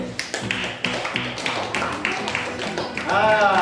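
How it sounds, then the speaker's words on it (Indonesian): Rhythmic group clapping in a classroom as a teacher calls for applause for a student team, a patterned series of sharp claps with a voice entering near the end. "Tepuk tangan untuk kelompok"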